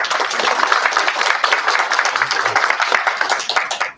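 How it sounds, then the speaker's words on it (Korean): A conference audience at an international fire investigation event applauds to welcome a professor to the stage, with dense, loud, sustained clapping that carries on for several seconds before thinning out at the end. "큰 박수로 환영해 주시면 감사하겠습니다."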